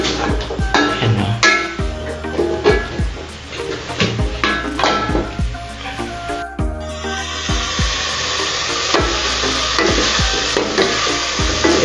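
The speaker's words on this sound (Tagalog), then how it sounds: "hahaluin po natin yung karne" Beef stirred in a pot while it fries, a steady sizzle and hiss carrying through with repeated scrapes and knocks of the utensil against the pot, the sizzle swelling louder partway through.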